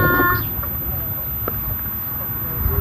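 A chicken gives a short burst of clucking near the start, then the scene settles into quiet rural background with faint people's voices nearby.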